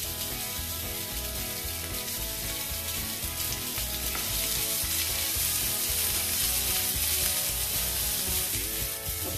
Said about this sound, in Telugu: ఇప్పుడు ఈ ఆనియన్స్ వేస్తున్నాను. ఆనియన్స్ కొంచెం ఫ్రై చేసుకోవాలి.